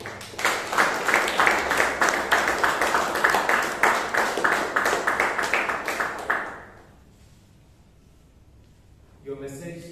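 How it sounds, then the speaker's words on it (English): Audience applause at a Toastmasters club meeting in Bangalore, a dense round of clapping from a roomful of members lasting about six seconds before dying away, then a voice begins speaking. "Let's hear a big round of applause for our president"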